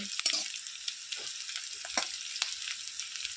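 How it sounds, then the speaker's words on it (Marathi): Chopped onion fries in a pan with a steady, close hiss, broken by several sharp clicks and scrapes as a spoon keeps stirring it. "त्याला हलवत राहायचं सारखं जेणेकरून ते आपले कांदा करपणार नाही"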